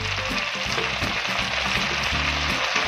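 Sauce for chicken chilli hits a hot pan and sizzles, a steady, close, dense frying hiss that runs unbroken throughout, with faint low clatter beneath.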